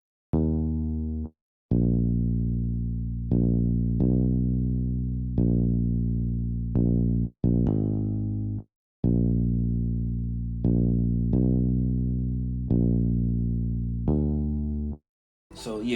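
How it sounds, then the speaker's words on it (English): Hard finger bass line for a soul sample, played as a series of deep, sustained bass notes, each struck sharply and decaying evenly, with short gaps between phrases and a brief noise at the end. "It's a very hard finger bass."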